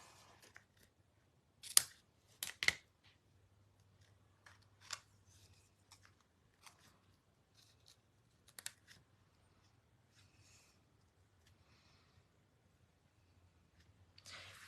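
Scissors snip through something in a few sharp, close cuts, with scattered quieter clicks and handling sounds between them in an otherwise hushed room.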